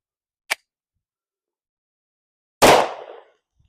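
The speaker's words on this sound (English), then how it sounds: "the Glock 29 shooting the Winchester Defender 180 grain 10mm jacketed hollow point" Two shots from a Glock 29 firing Winchester Defender 180 grain 10mm jacketed hollow point rounds. A tiny tick comes first, then one sharp, loud bang with a short decaying tail, surrounded by silence.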